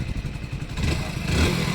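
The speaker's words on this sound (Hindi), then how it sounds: "बस स्टार्ट होनी चाहिए बाइक।" Hero Splendor Plus Xtec 2022 motorcycle engine turning over and catching, a short mid-pitched rumble that rises into a steady idle after about a second, heard close with no talk.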